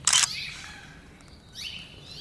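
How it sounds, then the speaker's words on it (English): Birds chirp and call in the open courtyard of an abandoned prison at sunrise, with a loud burst of twittering at the start, then fainter scattered calls and a rising chirp near the end. "You can hear the birds going crazy."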